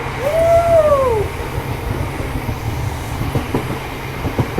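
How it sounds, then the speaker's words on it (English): Passenger train rolling through Liverpool, a steady low rumble of wheels on rail with a brief rising-and-falling squeal early on and faint rhythmic clicks toward the end. "right now, we're on a fucking train."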